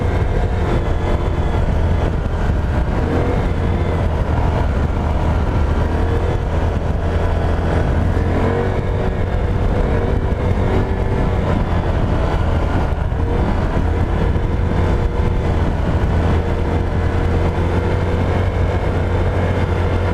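A Honda Grom motorcycle is ridden along a street, its small engine droning steadily and loudly with shifting revs throughout, close and continuous with no talk.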